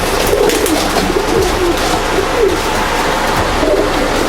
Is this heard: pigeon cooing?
yes